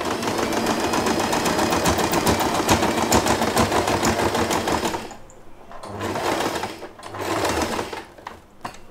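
Sewing machine stitching a fabric hair bow, running loud and steady with rapid needle strokes for about five seconds, then slowing into shorter, fainter bursts of stitching with brief pauses.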